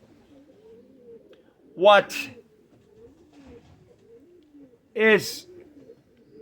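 Pigeons at a pigeon show give two short cooing calls a few seconds apart, near and fairly loud, with quiet talk and background murmur between them.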